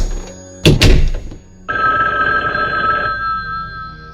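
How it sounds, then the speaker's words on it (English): A telephone rings in the video game I Am The Chosen One: a short clunk, then a steady electronic ringing tone that holds for a couple of seconds before fading slightly, with no talking. "The phone rang."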